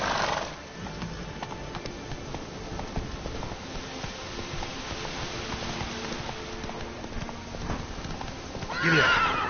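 Roach, a horse in The Witcher 3 video game, whinnies loudly near the end over a steady run of clip-clopping hooves at a gallop, with a voice talking briefly alongside.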